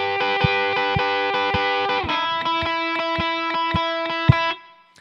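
Electric guitar on the middle pickup with overdrive playing the riff, a driving shuffle of crunchy chords and muted strikes in steady rhythm, close and clear with no talking, ending as the notes fade.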